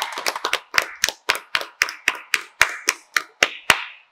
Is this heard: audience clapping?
yes